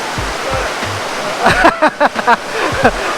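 Waterfall at Kinnaree falls near Phu Langka in Bueng Kan, a constant loud rushing roar of falling water with someone talking over it.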